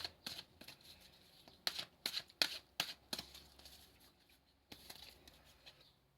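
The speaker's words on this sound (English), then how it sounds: "I'm going to pull one other card, an abundance card." Tarot cards shuffled before a card is pulled, faint papery riffles and soft flicks in short quick clusters, close and quiet, with no talk.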